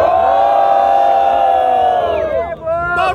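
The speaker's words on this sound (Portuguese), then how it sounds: "Barulho para as rimas do Emanuel!" A loud crowd at a rap battle roars and shouts in unison for a rapper, sustained cheering that breaks up and fades near the end, close and energetic.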